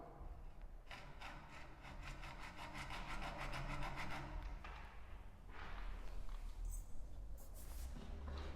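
Wood being cut by hand for a shelf inside a homemade mushroom growing box, a steady rhythmic rasping of saw strokes close by, pausing briefly before resuming.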